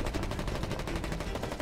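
Dense, steady gunfire in the Foxhole war game, a continuous rattle of rapid shots filling the whole moment, loud and close with no pauses or voices.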